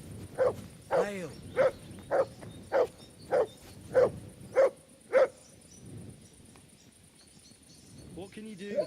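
A dog barks in the medieval role-playing game Kingdom Come, nine sharp evenly spaced barks over about five seconds, fairly close and loud, followed by quiet ambience with crickets.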